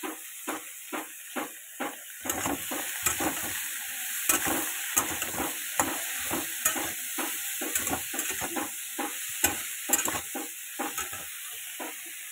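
Onions and brinjal pieces frying lightly in oil in a pan, a steady hiss of sizzling under repeated scraping stirs of a spatula, close and moderately loud with no talking.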